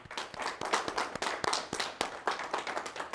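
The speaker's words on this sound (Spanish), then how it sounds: "A ver, un aplauso a Cristo." Congregation members in a church clap together, a moderately faint, fairly regular rhythm of hand claps from a modest group with no talking over it.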